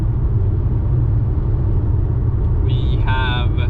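Steady low road rumble and tyre noise from inside a Volvo XC40 Recharge P6 electric car cruising on a highway, loud and constant, with a few faint higher tones near the end.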